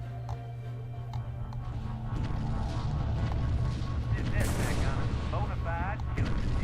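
Heavy naval MAC gun shots boom in the Sins of the Prophets space strategy game, a dense, continuous barrage of loud, low rumbling blasts with sharp metallic zaps and sweeping tones layered over a steady drone.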